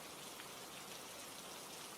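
Steady rain falls in an even, continuous hiss with dense pattering drops, constant in loudness and with no voices or other sounds.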